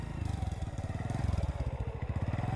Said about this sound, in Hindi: राहुल अपनी बाइक मोड़कर आयशा के ऑफिस के नीचे पहुंचता है।